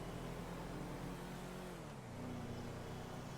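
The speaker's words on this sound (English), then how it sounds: "We're here on the freeway, and what we're gonna do is hit the gas." A GTA 5 SUV at full throttle on a freeway gives a steady, droning engine roar with a strong low hum that holds constant throughout, a faint shift in pitch midway.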